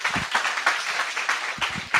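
Audience applause greeting a presenter named Shoni at an apprenticeship launch showcase: a short burst of scattered clapping from a room of people, fairly steady for about two seconds with a few louder claps standing out.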